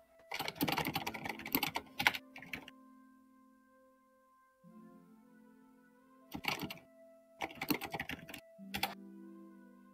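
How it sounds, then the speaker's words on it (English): Computer keyboard typing comes in several dense, rapid bursts separated by pauses, fairly close, with a steady low electronic hum underneath during a tabletop role-playing session. "Typing intensifies."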